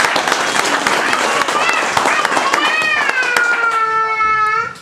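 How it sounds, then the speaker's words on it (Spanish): Church congregation applauding during a sermon, dense sustained clapping with cheering voices and whistles rising over it, ending with long sustained tones near the close. "Aplauso para Cristo."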